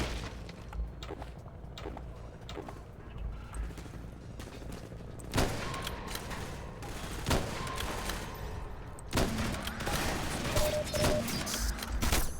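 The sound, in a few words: gunfire in the video game Hunt Down The Freeman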